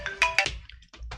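Mobile phone ringtone playing a bright electronic melody in short repeated bursts, loud and close, with no talking over it.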